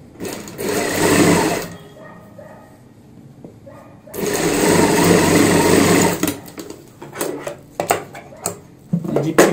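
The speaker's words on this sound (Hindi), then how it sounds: "यहाँ पे हम सिलाई लगाते हैं जिप के ऊपर इस प्रकार से" A sewing machine stitches over a zip on a box-pleat palazzo pant, running in two sustained loud bursts with a pause between, then shorter stop-start runs with clicks toward the end.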